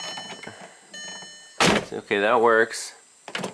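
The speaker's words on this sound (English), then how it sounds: "Now let's see if we close and open the door a couple times" The driver's door of a 2003 VW Jetta is opened and closed, giving sharp clunks and latch noises around a brief electronic chime; someone speaks briefly between sounds.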